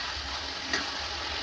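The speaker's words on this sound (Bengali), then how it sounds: "লোভনীয় জিনিস রান্না হচ্ছে, চিকেন কষা।" Spicy chicken kosha frying in a pan in a home kitchen, giving a steady, even sizzle with a faint tick partway through and no voices.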